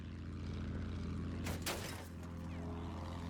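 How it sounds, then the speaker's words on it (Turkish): Propeller airplane engine droning in the Battlefield 1 video game, a steady low hum with a brief whooshing pass midway, as another aircraft flies close by. "Bir tayyare görüyorum."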